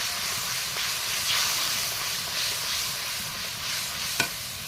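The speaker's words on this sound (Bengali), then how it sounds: "দিয়ে খুব ভালোভাবে একটু নাড়িয়ে নেব যাতে দলা না পাকিয়ে যায়।" Chili powder being stirred into a silver carp fish curry in a pan, with a steady sizzling hiss and soft scraping throughout and a single light clink near the end, no voices.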